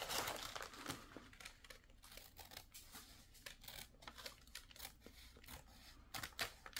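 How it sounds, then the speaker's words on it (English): Scissors cut through paper for a junk journal in a quiet close-up, a run of crisp snipping clicks and soft crinkles coming in irregular bursts, with no talk. "I'm gonna cut this right here."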